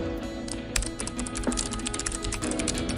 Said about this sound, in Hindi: ये है हमारी नॉर्मल टाइपिंग स्पीड